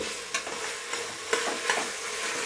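Tomatoes cut lengthwise frying in a pan for tomato rice, a bright, continuous sizzle with a few soft scrapes and taps of a stirring spoon, close and without voices.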